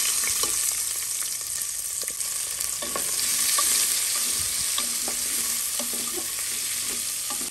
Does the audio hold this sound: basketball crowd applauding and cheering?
no